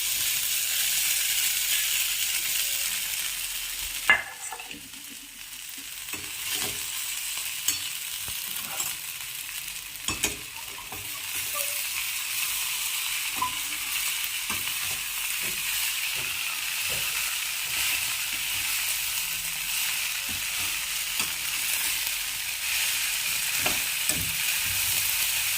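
Poha is tipped into a frying pan with browned seasoning and stirred, a steady close sizzle and hiss broken by intermittent scrapes and knocks of the spoon against the pan.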